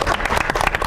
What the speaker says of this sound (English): One more time, practice clapping with the audience.